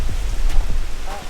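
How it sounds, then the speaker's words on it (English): Rain beginning to fall at a lake while fishing, a steady broadband patter close to the microphone with a few soft taps, continuous throughout with no talking. "It's starting to rain right now."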